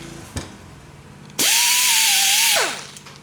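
A power tool whirs up sharply and runs steadily for about a second, stripping cooked-on gasket material from an engine cylinder, then winds down, with a brief knock beforehand; loud and close.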